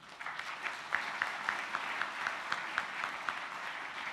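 A convention audience at the Global Peace Convention plenary claps, soft and somewhat distant, with a few sharper individual claps standing out in a loose rhythm over a thin crowd wash.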